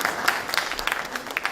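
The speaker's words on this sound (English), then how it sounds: "So a round of applause for yourself for making that" Audience at an expo in Pune gives brief, moderate applause, scattered claps blending into a soft wash that continues throughout.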